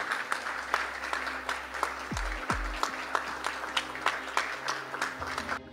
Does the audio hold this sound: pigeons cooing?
no